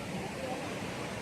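The Chaparai water cascade in Araku Valley, Andhra Pradesh, rushes with a steady, dense hiss of fast-flowing water, unbroken and even from start to finish.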